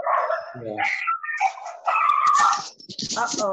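A dog barks and yips in short bursts alongside people talking nearby, the barks loud and close, mixed into the conversation.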